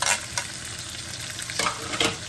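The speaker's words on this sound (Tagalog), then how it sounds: "Fry lang natin mga kasimple yung garlic." Chopped garlic frying with meat in a hot pan: a steady, close sizzle with crackling spatter, broken by a few brief scraping stirs, and no talking.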